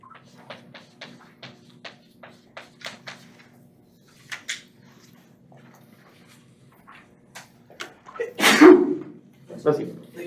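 A single loud, sharp sneeze erupts close by in a classroom after a stretch of quiet tapping and shuffling sounds, followed by a voice speaking.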